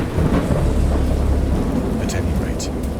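In the video game Dagon, a thunderstorm rolls with deep, loud rumbling thunder over steady rain, with a few brief sharper crackles later on.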